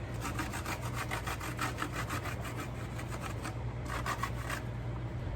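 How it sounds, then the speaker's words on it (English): Lemon rind is rasped over a grater close to the microphone for pan-seared swordfish, with quick repeated scraping strokes throughout and a short burst of faster strokes near the end. "I'm also going to take the rest of that lemon that we squeezed out and I'm going to actually grate it over"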